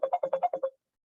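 A phone ringtone plays as a quick run of seven bright, evenly spaced electronic tones, clear and fairly close, then stops into silence.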